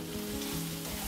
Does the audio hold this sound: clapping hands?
no